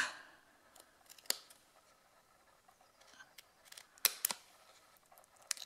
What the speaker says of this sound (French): On va cranter ces bandes de chaque côté.